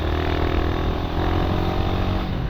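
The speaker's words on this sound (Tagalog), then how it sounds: "So naririnig nyo yung tambucho ko" The exhaust of a Honda Winner X motorcycle rumbles loudly and steadily up close, a deep throbbing drone with no voices over it.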